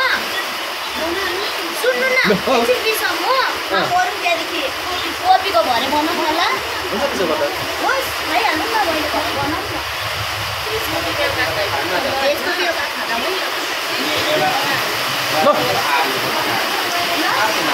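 Running water rushes loudly and steadily throughout the entire stretch of a casual gathering where momos are being made, a broad constant roar with people talking over it.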